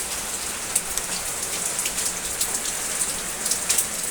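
Steady heavy rain pouring down and pattering on surfaces, a dense continuous hiss with scattered nearby drops, no voices.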